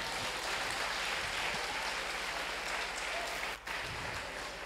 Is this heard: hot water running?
no